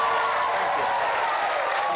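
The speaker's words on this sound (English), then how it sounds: "A round of applause for Anthony, everybody." Audience applause at a live Anthony Horowitz event, a dense, steady wash of clapping from a crowd that holds at an even level across the whole stretch.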